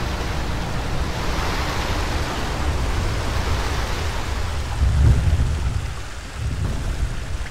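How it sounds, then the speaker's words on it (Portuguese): Steady rain pours down in a continuous broadband hiss, with a low rumble swelling briefly midway like distant thunder, loud and close, no one speaking. "tá chovendo aqui"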